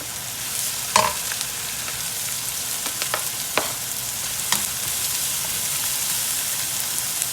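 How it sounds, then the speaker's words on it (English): Fried rice ingredients with shallot, green seasoning and garlic lightly pushed around a hot pan, a dense, steady, rain-like sizzle with a few sharp scrape and tap accents from the utensil, close and continuous, no talking. "I'm just lightly pushing this around"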